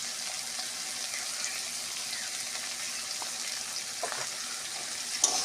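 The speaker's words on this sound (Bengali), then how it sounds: "এটা ঢেকে ঢেকে ভাজবো।" Potatoes and bitter gourd seasoned with turmeric and salt fry in a covered pan, giving a steady, even sizzling hiss throughout with a small clink near the end and no talking.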